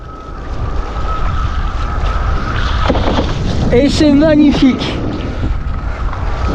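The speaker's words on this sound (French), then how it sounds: "Le vent est en train de monter, il doit y avoir 12-13 nœuds." Wind and water rush past an Olympic IQfoil windsurf board as the breeze builds to about 12-13 knots. A steady, loud broadband roar runs throughout, and someone speaks briefly over it near the end.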